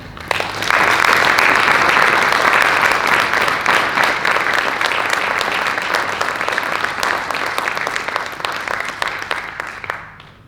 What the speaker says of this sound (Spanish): Ruego un fuerte aplauso para todos ellos